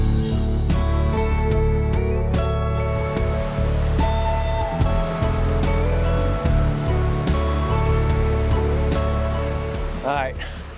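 Water rushes along Newton Creek at a campsite on the Timberline Trail in Oregon's Mt. Hood National Forest, a constant broad roar with voices and tonal sounds on top.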